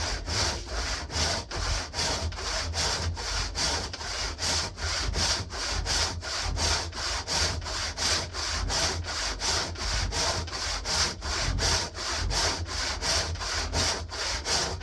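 Hand saw cutting through ash wood to make a 2x4, with steady, even back-and-forth rasping strokes repeating close up for the whole stretch and no talking.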